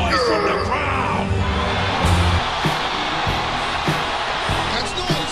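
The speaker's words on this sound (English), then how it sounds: "So let me hear some noise from the crowd!" Live show crowd roaring and whooping steadily at close range, a dense wall of voices that stays loud throughout with a few sharp thumps and shouts rising above it.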